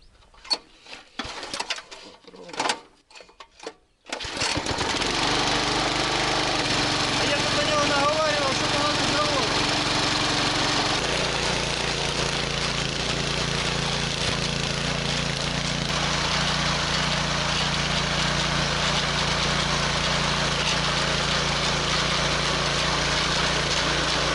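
A motor cultivator that starts hard after sitting through winter: a few sputtering pulls and coughs, then the engine catches and runs in a loud, steady close drone.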